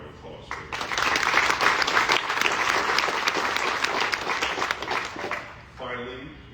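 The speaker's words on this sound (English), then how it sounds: "they all collectively deserve a round of applause for that" A crowd applauds at a tenth-birthday celebration for a bike-share program, a dense, sustained wash of clapping that swells quickly, holds, then fades as a voice returns near the end.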